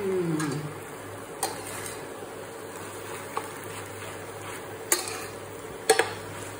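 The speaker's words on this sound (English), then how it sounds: "Give a nice stir." Dried white chilies cooking in a pan for Bhutanese ema datshi, a soft low sizzle under a few sharp clicks and scrapes of a spoon stirring, close and fairly quiet.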